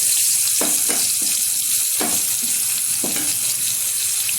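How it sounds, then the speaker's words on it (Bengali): Chopped onion frying in mustard oil for an egg curry, a steady loud sizzle with brief stirring scrapes breaking through several times. "এখন দিয়ে দিচ্ছি কুচিয়ে রাখা পেঁয়াজ"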